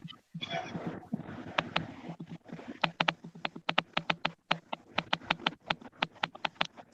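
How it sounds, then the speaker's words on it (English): Rapid typing on a computer keyboard, a dense run of sharp, close clicks with uneven rhythm and bursts of keystrokes, heard alone at a fairly quiet level. "Somebody is typing the fuck out that keyboard."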